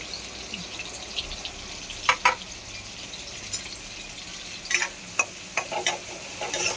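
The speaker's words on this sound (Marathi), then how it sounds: "मिरची टाकते म्हणजे मिरची चांगली फ्राय होईल" Green chilies frying in a pan for pasta, a soft steady sizzle running throughout with a few sharper crackles and spatters bursting out near the start and toward the end, no voices.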